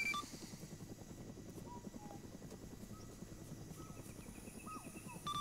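Helicopter rotors thump steadily at a distance during a military simulation airsoft game, a continuous low chopping drone that holds level throughout, with faint thin tones drifting above it and no talking.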